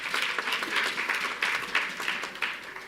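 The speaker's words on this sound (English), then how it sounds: "Give them a round of applause." A credit union annual general meeting applauds newly elected nominees, a full, even round of many hands clapping throughout, with slight swells and no speech on top.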